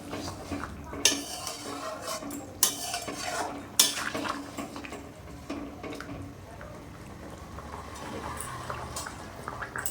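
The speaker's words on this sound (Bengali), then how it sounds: "5 মিনিট পর নেড়ে দিলাম।" A spoon stirs chicken and potato curry in a pot with a few sharp scrapes and clanks against the metal, followed by a soft ongoing simmer.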